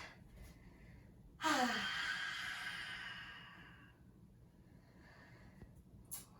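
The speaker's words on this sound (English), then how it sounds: "One more deep breath. Exhale, both hands down." A single deep, breathy exhale during a vinyasa yoga flow, rushing out near and clear, then trailing off slowly over several seconds into quiet room tone.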